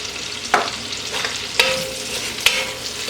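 Salted onions being stirred in a pot over a soft, steady sizzle, with three sharp utensil scrapes and knocks spaced about a second apart.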